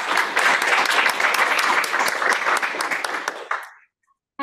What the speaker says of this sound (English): final thank you and round of applause to our speakers.